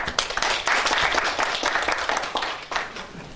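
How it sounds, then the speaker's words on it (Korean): Welcoming applause from a seminar audience rises at once into a full burst of clapping, holding steady and close before starting to thin toward the end. "뜨거운 환영의 박수 부탁드리겠습니다."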